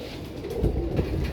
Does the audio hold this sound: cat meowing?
no